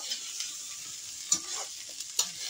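Rice is being fried in a pan, a soft steady sizzle with a few sharp spoon clinks and scrapes against the pan, fairly quiet and without talk.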